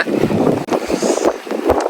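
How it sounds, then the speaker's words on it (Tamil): Strong wind buffets the microphone on a hilltop farm at Ambewela, Sri Lanka, in a steady, roaring rush, with gusty bursts and low rumbles throughout. "கடும் காத்துமா இருக்கு"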